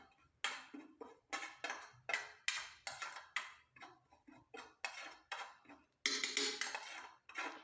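Dry ingredients are stirred in a smoking pan with the heat switched off, giving a quick, regular run of close metallic scrapes and taps, about two per second, ending in a longer, busier burst.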